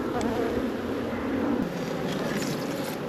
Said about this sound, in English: I'm going to blow all these bees out and it's going to be an absolute